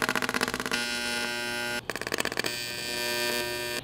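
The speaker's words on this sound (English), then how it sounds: "So again, we'll just tack it." An AC TIG arc tack-welds an aluminum intake, giving two steady electric buzzing bursts of about a second each, split by a short pause, with a pulsing flutter before the first.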